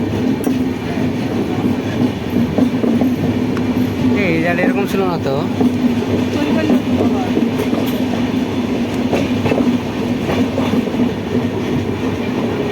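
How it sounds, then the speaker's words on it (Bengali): A passenger train rumbles steadily along the tracks with rhythmic clatter and a brief squeal, while people talk loudly over the noise. "ও ভাই দেখতে পাচ্ছ ট্রেনটা কত দূর বেঁকে বেঁকে যাচ্ছে সাপের মতো"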